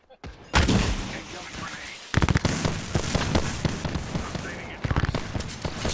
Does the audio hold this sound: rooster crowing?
no